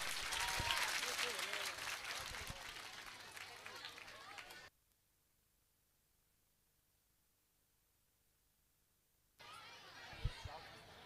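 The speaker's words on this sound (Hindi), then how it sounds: "एक बार जोरदार तालियां" A crowd at an event for Narendra Modi claps loudly for several seconds, then falls silent for a stretch before applause and crowd noise pick up again.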